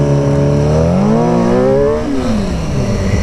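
A car accelerates away from a red light at an intersection, its engine revving loud and close with rising then falling pitch sweeps across the whole clip.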